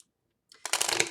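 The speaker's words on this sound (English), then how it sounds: "I am going to shuffle these one more time." Steampunk Mini Tarot cards riffled in a quick shuffle, a dense papery flutter that starts after a brief quiet and runs to the end, close and fairly loud.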